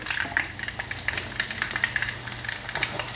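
Beef strips fry in hot oil with a close, busy sizzle and bursts of popping and spitting as they are stirred and tossed around the pan.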